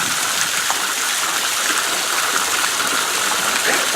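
Water jets spray steadily from a swimming pool's fittings at its opening, a continuous splashing rush without pause, fairly loud and close.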